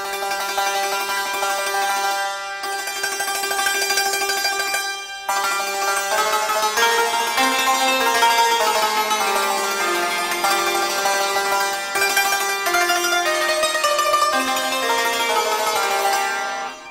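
Hammered santur melody doubled in higher or lower octaves, a continuous flowing line of bright, resonant struck strings with dense overlapping ringing and only brief pauses.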